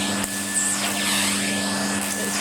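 A Hoover vacuum cleaner runs with a steady, loud, continuous motor whine and hum, held at an even level throughout with no speech.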